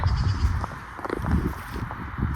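Sheep bleat on a Michigan farm, several short wavering calls close by over wind and rustling outdoor noise.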